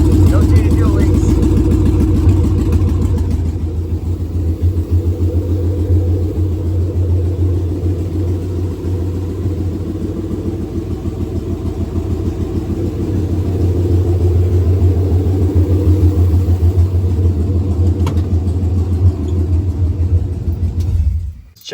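A 1966 Chevy C10 pickup fitted with an LS1 V8 idles steadily with a deep, continuous low rumble, close and loud throughout, briefly swelling near the end before cutting off.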